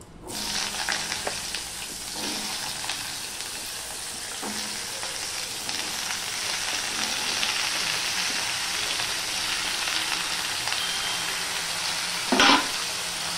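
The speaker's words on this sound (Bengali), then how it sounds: "এবার কড়াইয়ে তেল গরম হয়ে গেলে আমি এই সবজিগুলো প্রথমে" Pointed gourd, pumpkin, long beans and jackfruit seeds fry in hot oil in a wok, a loud continuous sizzle with occasional stirring scrapes and a sharp clack near the end, no talking.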